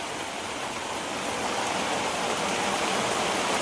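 Rain pours down in a rural village, a dense, continuous hiss that stays loud and even throughout with no talking.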